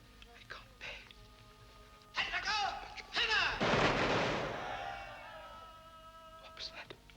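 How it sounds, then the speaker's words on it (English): Rifle volley from a firing squad at an execution in a 1953 film, two sharp loud bursts around two and three seconds with a booming echoing tail fading out, among quiet talk and background music. "Firing squad. It's execution day."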